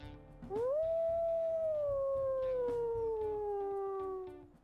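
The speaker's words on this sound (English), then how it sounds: "Let's go ahead and listen to his howls here." A wolf in the WolfQuest video game gives one long, clear howl that rises quickly and then slowly falls in pitch, holding steady and loud for about four seconds against a faint game background.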